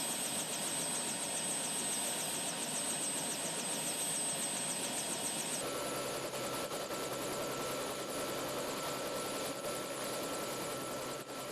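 A helicopter's rotor blades turn steadily with a rapid, even chop over a constant engine whine, close by and unbroken for the whole stretch, with the tone shifting slightly about halfway through.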